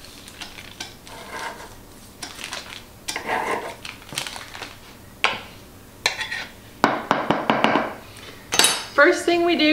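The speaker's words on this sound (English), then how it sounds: "First thing we do, fluff the butter, coat the butter with the flour." Cold butter is worked into freshly milled flour in a bowl for pie crust, making irregular close scraping, tapping and clinking bursts that grow busier toward the end, with no voices.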